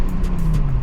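Volkswagen VR6-engined car driving, a steady low engine drone with road rumble heard from inside, brief and without speech.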